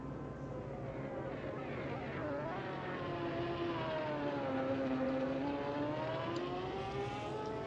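Ferrari race car on a flat-out timed qualifying lap at Spa in a racing video game, its engine note rising and falling steadily through gear changes, with a faint voice talking underneath.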